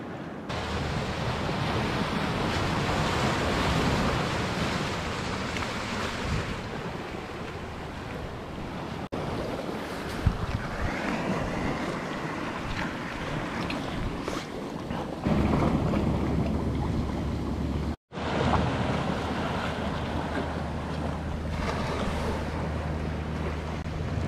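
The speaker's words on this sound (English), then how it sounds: "Got some nice waves crashing in around here" Ocean waves crash and wash onto a shoreline in a steady, loud roar mixed with wind buffeting the microphone, continuous throughout with a brief dropout near the end.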